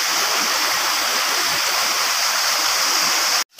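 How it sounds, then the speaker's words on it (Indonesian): The waterfall at Ci Koning, Bogor, roars steadily as a broad, dense rush of falling water, loud and continuous until it cuts off abruptly at the very end. "Di bawah kita ini ada air terjun waterfall, beautiful waterfall."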